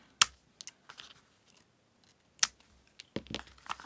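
Scissors snip off excess cord after a knot on a handmade closure for a travellers notebook junk journal. A few sparse, sharp, close clicks and snips are spread over quiet pauses, with no talk.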